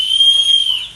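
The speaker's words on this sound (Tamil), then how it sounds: "இது உட்டில் பண்ண விசில்" A wooden toy whistle gives one loud, steady, shrill tone that lasts about a second.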